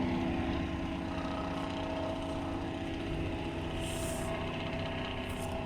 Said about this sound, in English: Noisy truck time!